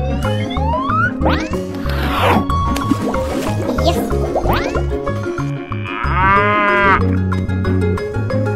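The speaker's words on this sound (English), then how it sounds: "Buffalo." Buffalo lowing in a repeated series of loud, deep moos and bellows, mixed with other animal-like calls and wet squishing noises.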